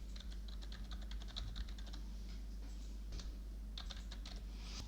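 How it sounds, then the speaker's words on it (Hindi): Fingers type an email address on a computer keyboard in quick bursts of light, close key clicks, pausing briefly midway before a final flurry, with no voices over it. "यहाँ पे हम टाइप कर देते हैं ईमेल एड्रेस।"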